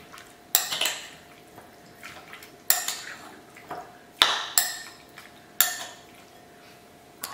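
A spoon stirs Goan beef chilli fry in a pan, giving sharp clinks against the metal at roughly regular intervals, about six in all, over a faint moist shuffling, close by with no talking.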